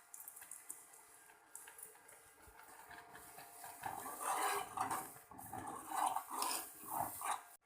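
A spoon stirs sabudana pudding in a pot after sugar and cardamom go in, with quiet scrapes at first and then louder, close clinks and scrapes against the metal in an uneven rhythm.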